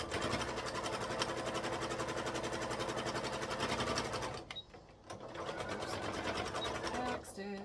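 A sewing machine back stitches a beginner purse with handles, humming steadily for most of the clip, pausing briefly near the middle, then resuming before a final stop.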